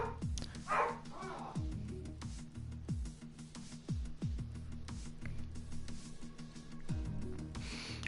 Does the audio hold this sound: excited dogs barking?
yes